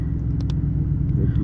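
Steady low engine rumble of a car driven in the horror game Fears to Fathom: Scratch Creek, continuous and close, with a couple of faint brief clicks over it.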